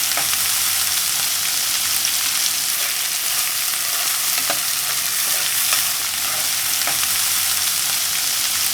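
Sliced onions fry in oil in a kadai while being stirred, giving a steady, dense sizzle with faint scraping ticks from the stirring, close and continuous with no talking.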